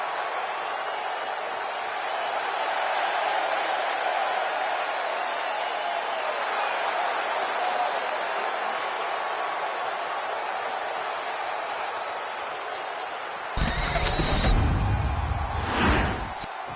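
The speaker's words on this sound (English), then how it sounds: "you can already hear the roar of the crowd as this ladder match gets underway" A wrestling crowd roars as a ladder match gets underway: a dense, steady wall of arena noise that holds throughout, with a louder burst of shouting and impact noise near the end.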